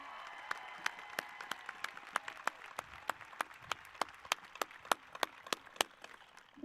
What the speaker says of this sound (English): I was going to ask for a round of applause